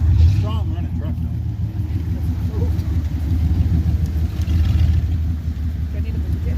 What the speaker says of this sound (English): It's strong running truck though.